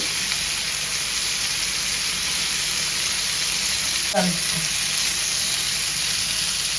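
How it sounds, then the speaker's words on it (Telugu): Marinated fish shallow-frying in oil, a steady broadband sizzle holding evenly throughout, with a brief soft clatter partway as a piece is turned by hand. "ఇలా మంచిగా ఆయిల్ వేసుకొని కాల్చుకోవాలా ఫిష్ ఫ్రై అయితే చాలా టేస్టీగా ఉంటుంది"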